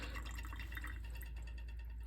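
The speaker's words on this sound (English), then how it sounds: "And you pour out the liquid." Liquid poured out through a sink strainer, a steady soft splashing and trickling stream with faint drips, heard alone against a low constant hum.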